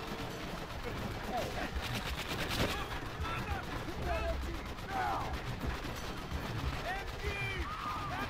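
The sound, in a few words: gunfire from video game Call of Duty: World at War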